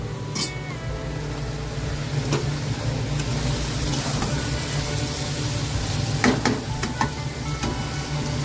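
Vegetables frying in a pan for chilli chicken with egg and meat, a steady close sizzle with stirring and scraping throughout, no voices.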